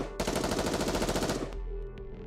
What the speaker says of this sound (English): Soon after, there's the sound of gunfire, and screams fill the streets.